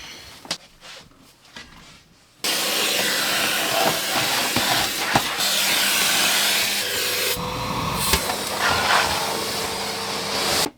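A Hoover vacuum cleaner switches on abruptly and runs with a loud, steady broadband roar and hiss for most of the stretch, wavering in tone near the end before cutting off, with quiet room noise and knocks before it starts.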